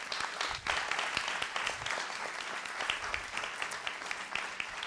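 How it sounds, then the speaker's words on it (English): Audience applause at a Hult Prize business school event in London, dense and steady crowd clapping filling the whole stretch, fairly loud and even without pauses. "I've got a big round of applause for yourselves"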